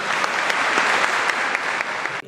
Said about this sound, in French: une bonne applaudissement pour les employés